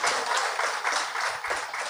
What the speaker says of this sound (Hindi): तो अपने लिए भी ताली बजा लीजिए एक बार